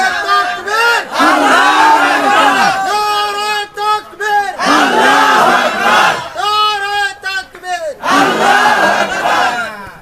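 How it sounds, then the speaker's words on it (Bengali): A large crowd at a religious rally shouts the takbir chant in loud, repeated massed call-and-response bursts, with a lead voice calling between the roaring group replies. "একটু তাকবীর দেন তো ভাই"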